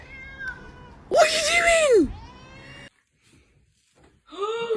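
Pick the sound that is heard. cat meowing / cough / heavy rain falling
cat meowing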